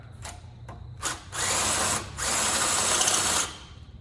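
A power drill fitted with a half-inch bit bores a hole during a seat swap into an S10 Blazer: short bursts, then two long, loud whining runs separated by a brief pause, close up, with no speech.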